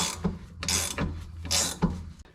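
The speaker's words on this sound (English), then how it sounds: "keep on cranking on it, even when you think it's going a little bit sideways in there, and it'll pop through" A hand ratchet cranks to press a differential bushing into the rear subframe of a Lexus GS400. Loud, close clicking bursts come in quick strokes with short pauses between them, and no one speaks.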